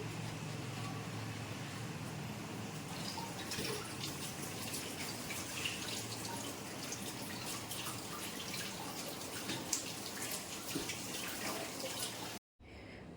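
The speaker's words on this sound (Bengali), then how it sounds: "প্রতিমাদি আস্তে আস্তে একটু জল ঝরে যাবে তখন তুলে নিতে পারবো" Freshly washed items drain, and water drips and trickles off them in a steady, soft patter with no voices.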